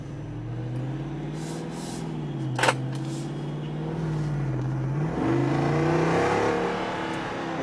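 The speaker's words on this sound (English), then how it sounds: "Do a quick little pull in a 392 Jeep." A 2021 Jeep Wrangler Rubicon 392 with a Hemi V8 pulls hard from inside the cabin, its deep engine note rising and falling through the run, with a sharp knock partway through and no talking.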